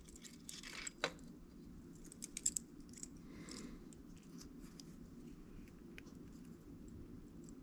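Scissors snip off the tag end of fishing line while a foam strike indicator is being tied, giving a few faint close clicks and rustles over a quiet background.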